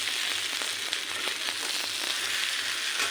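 Boiled jackfruit fries in a pan with a steady, close, dense sizzle that holds evenly throughout, without any voices.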